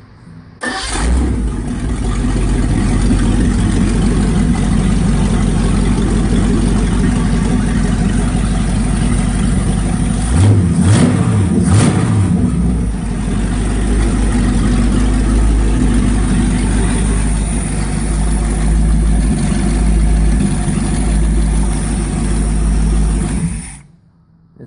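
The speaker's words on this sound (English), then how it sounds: "this is just a truck motor, nothing wild, nothing spectacular" A truck motor cranks and catches, then runs at a loud, steady rumbling idle with a quick couple of throttle blips midway before settling back, close and continuous until it shuts off at the end.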